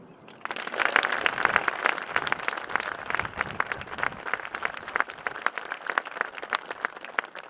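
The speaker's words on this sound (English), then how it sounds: "please give a warm welcome to our Governor, Jim Pillen." Ceremony audience at the 100th anniversary of the naming of Offutt Field applauding the arrival of the governor. Moderate, steady clapping from a seated crowd with distinct individual claps, no voices.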